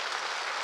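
A church congregation applauds at a Sunday morning service, a dense, continuous wash of clapping that fills the whole brief moment without any talking.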